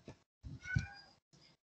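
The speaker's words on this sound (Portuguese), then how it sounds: "porque a minha gatinha, ela apareceu aqui e eu preciso tirar ela daqui" A female cat meows softly nearby, giving a short chirp, a longer drawn-out meow, then a brief final mew, quiet with no talking.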